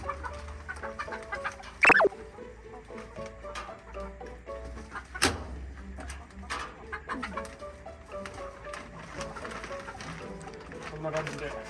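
Chickens cluck and coo inside a wooden chicken coop that is being fitted out for winter. Soft, scattered calls continue throughout, with a couple of sharp knocks, while a person talks nearby over a low background hum.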